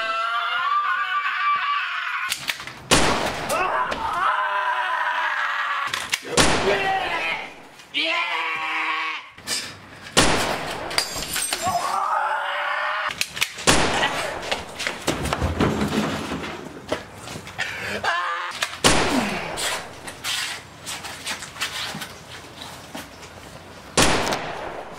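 Several sharp gunshots ring out at irregular intervals, loud and close, between stretches of talk and background voices outdoors.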